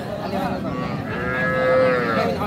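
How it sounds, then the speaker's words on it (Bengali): Cows, including Friesian and cross-breed cattle, moo at the busy Aftabganj cattle market: drawn-out bellowing calls that rise and swell toward the end over a low crowd murmur. "যেদিকে তাকাবো শুধু গাভী বাচ্চা"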